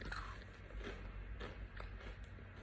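Faint, close crunchy bites and chewing on a plain, dry snack that tastes like cereal, a few soft crackles with no talking.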